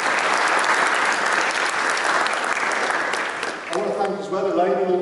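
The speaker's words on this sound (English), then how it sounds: "Let's give them a round of applause." Audience applauds at a lupus information day event in the West Midlands, dense steady clapping filling the room for about four seconds, then a voice begins talking as the clapping fades out.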